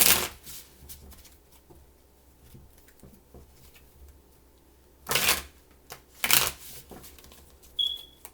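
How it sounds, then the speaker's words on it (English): Tarot cards are shuffled in a few quick riffling bursts with quiet gaps between, close up, ending in a short high electronic beep. "Give me 3 shuffles, please."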